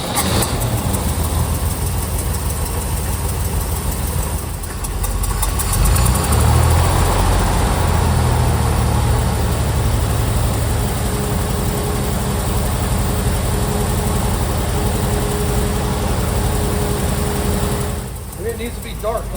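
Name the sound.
1969 Chevy C30 truck engine idling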